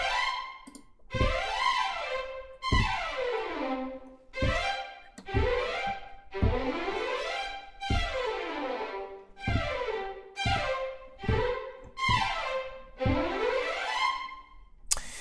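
Orchestral woodwind runs from a sample-library runs-and-arpeggios expansion pack: about ten fast, bright scalar sweeps rise and fall in quick succession, each ending in a short sustained note, with no voices.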